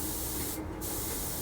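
A short burst of hissing spray from a spray gun on a model Batwing with a brief gap in the middle, close by and fairly quiet, with no voices.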